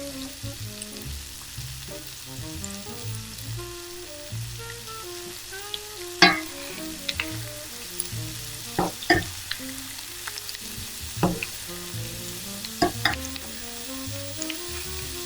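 Seasoned steak sizzles in a pan for a steak sandwich, with a steady frying crackle under background music and occasional sharp clinks or stirring knocks.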